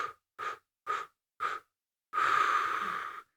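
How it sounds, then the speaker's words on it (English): Deep diaphragmatic breathing: four short, evenly spaced breaths out, followed by one long, steady exhalation lasting over a second, close and clear in a quiet room. "blow out for 5 seconds until you're completely emptied your lungs"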